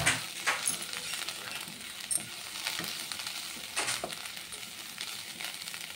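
Beetroot fry being stirred in a pan, a steady close sizzle with scraping and stirring strokes of a spoon against the pan, continuous throughout with no talking.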